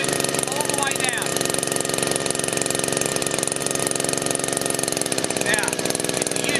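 A 909 Tools PB26 small two-stroke engine restarting with the choke moved partway down, running as a steady loud buzzing, rattling drone throughout, with faint speech-like sounds in the background.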